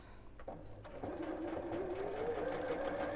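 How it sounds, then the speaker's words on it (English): Sewing machine stitching along the fold of a reversible fabric bowl, starting with a few clicks and then settling into a steady, quiet whirring hum that rises slightly in pitch, close by with no talk. "So sew along the line,"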